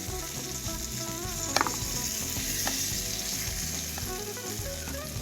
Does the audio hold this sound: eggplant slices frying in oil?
yes